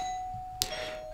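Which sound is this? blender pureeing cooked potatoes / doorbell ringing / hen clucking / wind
doorbell ringing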